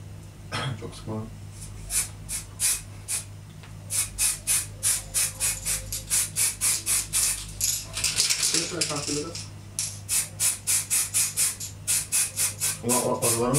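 An aerosol can is sprayed in a rapid series of short hissing bursts, close and fairly loud, with voices talking in between.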